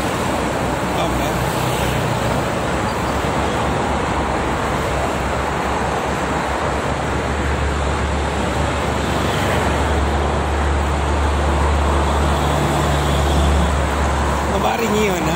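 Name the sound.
morning traffic on the Jakarta–Cikampek toll road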